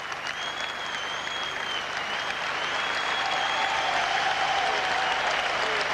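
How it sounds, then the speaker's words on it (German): Spectators at the 1988 Seoul Olympics women's singles tennis final cheer and applaud Steffi Graf in a steady, sustained roar of clapping and crowd noise that swells slightly toward the end. "Ihr gehört jetzt der Jubel."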